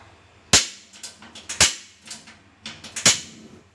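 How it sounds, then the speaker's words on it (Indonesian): A gas stove's igniter clicks on, giving a few sharp, loud clicks close by, with a small tick between them and brief decays after each snap. No talk. "Nyalakan kompor."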